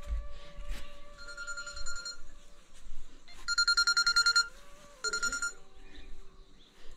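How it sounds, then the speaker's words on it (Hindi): A mobile phone rings with bright, repeated electronic tone bursts, close and clear, in two pulsing rounds separated by a brief pause, with soft background noise and faint animal sounds. "फोन भी आ गया पता नहीं कौन कर रहा देखते हैं"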